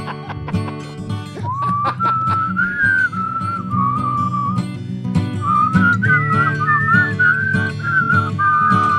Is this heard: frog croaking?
no